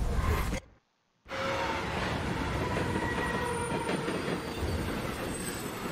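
Train in the video game Beyond: Two Souls, heard after a brief drop to silence as a steady, close rail rumble with wheel clatter and faint squealing tones, no talking.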